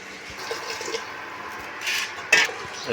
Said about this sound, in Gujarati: હવે પાણી નાખવાનું. પાણી નાખ.